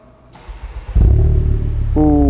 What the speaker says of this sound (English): It has a gritty exhaust system.